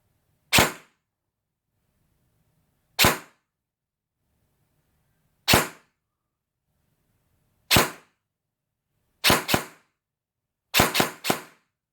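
An airsoft gun firing BLS green tracer BBs, likely at an indoor CQB arena, gives sharp isolated pops, first singly at slow, even intervals, then in quick doubles and a fast triple, with near silence between.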